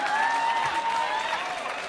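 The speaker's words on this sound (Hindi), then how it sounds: "ताली बजाइए भाई" A crowd at a televised debate show breaks into brief clapping. A prominent voice rises and falls above the applause during the short burst.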